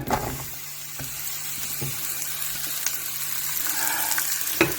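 Mushrooms frying in a pot for a beef mince stroganoff pasta, giving a steady close sizzle with a few small clicks and stirring scrapes, loud and continuous, with no talking.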